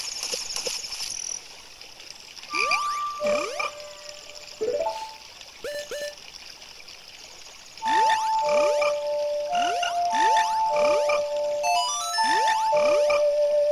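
Ocarina melodies from Zelda: Ocarina of Time's frog mini-game play as short sequences of clear, pure tones, each note followed by rising chirpy frog blips, over a steady trickling water background.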